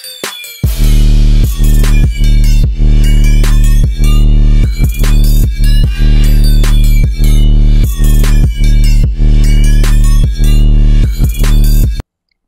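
A heavy 808 bass pattern processed through an effect plugin plays loud and booming, with deep sustained bass notes under a busy beat of sharp percussive hits, ending abruptly.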